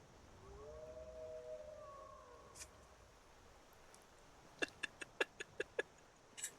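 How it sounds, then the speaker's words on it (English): Wolves howling in Skyrim, faint distant drawn-out wavering howls early on, followed later by a quick series of sharp clicks or taps. "Can you guys hear the wolves howling in Skyrim at least?"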